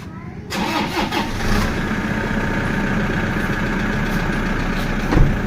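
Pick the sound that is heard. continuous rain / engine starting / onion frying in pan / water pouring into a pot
engine starting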